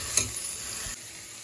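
Mutton trotter (paya) pieces frying in a pan give a soft, close sizzle with a brief stirring scrape, fading to quiet hiss after about a second.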